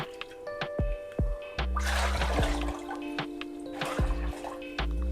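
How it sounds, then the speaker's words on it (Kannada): Water poured from a bowl into a pot to boil for crisp sago (sabudana) papad, with two brief splashing pours among scattered drips and small kitchen knocks, close and moderately loud. "ಇಲ್ಲಿ 5 ಬೌಲ್ ನೀರು ಹಾಕ್ಕೊಂಡು ಕುದಿಸ್ಕೊಳ್ಳೋಣ"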